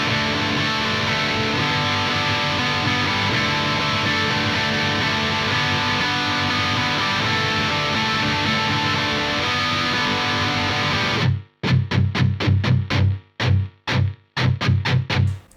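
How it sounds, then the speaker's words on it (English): An electric guitar strums open strings in a dense, distorted indie grunge shoegaze wash that holds steady, then breaks into choppy rhythmic strums with short silent gaps near the end. "and then you can work with that strumming pattern for everything."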